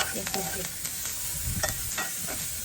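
Korean noodles with seasoning stir-fried in a pan: a steady close sizzle broken by quick scraping stirs of the utensil against the pan.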